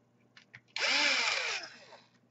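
An electric screwdriver set to its lowest torque drives a screw into a Samsung 470R NP470R5E laptop during a power jack repair, giving one short whirring burst of under a second after faint clicks, in a quiet room.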